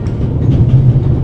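A train running on a Swiss railroad in the game The Raven, giving off a steady, loud, low rumble with a faint rhythmic rattle throughout and no voices.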